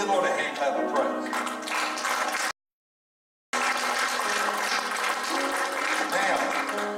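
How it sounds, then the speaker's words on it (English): A church congregation claps their hands in praise, a loud, sustained wash of applause mixed with voices that cuts out abruptly for a second and then resumes just as strongly. "Give the Lord a hand clap of praise"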